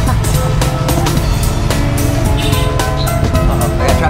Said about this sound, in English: I got a traffic jam